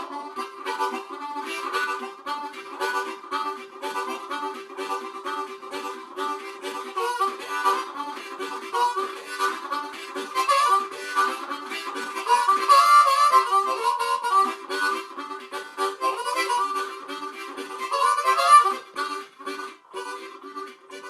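A harmonica plays a rhythmic chugging train imitation, quick repeated breathy pulses with a steady held tone underneath, going on continuously and swelling louder near the end.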